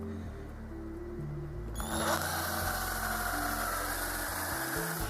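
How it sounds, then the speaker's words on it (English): A hand drill whirs steadily nearby, boring a deep hole, its pitch shifting as it bites in, with a higher whine joining partway through. "I need to back out the drill bit and clear away any debris to make life a bit easier when you're drilling"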